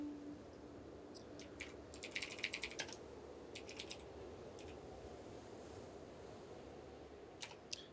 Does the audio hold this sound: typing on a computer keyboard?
yes